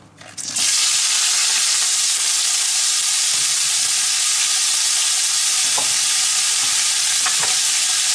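Red onion, button mushrooms and bacon matchsticks sautéing in a pan for a rolled omelette: a loud, steady sizzle and crackle that starts after a brief quiet moment and holds for about seven seconds, with a few faint stirring clicks.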